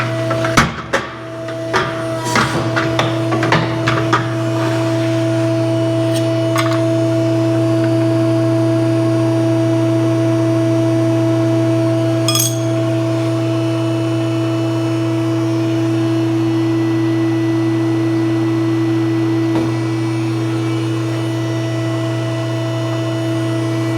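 A tube bending machine clamps a tube and builds pressure before an 85.8-degree bend, giving a loud, steady mechanical hum with a few sharp clanks near the start and faint clicks later.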